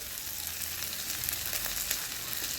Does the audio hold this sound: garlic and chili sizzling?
yes